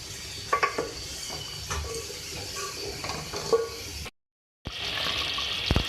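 Water comes to a boil in a pot of chicken curry (chicken salan), giving a steady bubbling simmer with occasional stirring clinks. It drops to silence briefly before the bubbling resumes.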